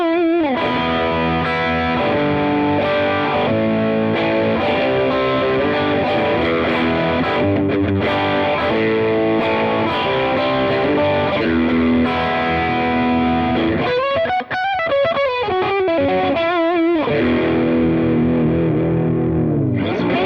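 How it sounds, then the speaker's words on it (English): A VOLA OZ ROA DSE superstrat electric guitar in the second pickup position with the coil split, played through heavy distortion and effects, sounds sustained chords and riffs loud and continuous throughout. "Now let's go to the second position with the coil split engaged."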